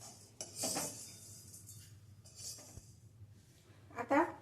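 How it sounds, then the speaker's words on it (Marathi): Roasted coriander seeds are scraped from a pan into a small bowl for turmeric pickle, with a few soft metallic clinks and scrapes of a spoon against cookware, fairly close and quiet. "हे धणे भाजून झाले मी हे एका बाऊलमध्ये किंवा वाटीत काढून घेते"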